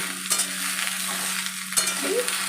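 Mixed vegetables — pointed gourd, ridge gourd, spiny gourd, pumpkin and potato — are stirred and fried in a pan for a hilsa fish head dish, with a steady close sizzle and scraping spatula strokes.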